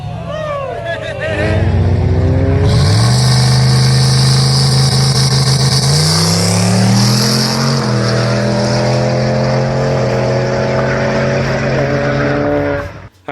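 A drag race car does a burnout at a no prep event, a loud close engine roar whose harmonics climb and shift as the revs build, with tire screech on top and talk partly under it.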